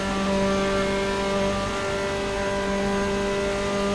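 A race car engine, a Porsche or AE86, holds a loud, steady high-revving tone pinned against the rev limiter, buzzing continuously with little variation.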